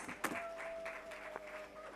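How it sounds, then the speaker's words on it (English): An audience applauds at the annual Botswana women sports awards ceremony, a short, fairly quiet patch of scattered clapping with a few sharper claps and a faint steady tone running underneath. "with a round of applause"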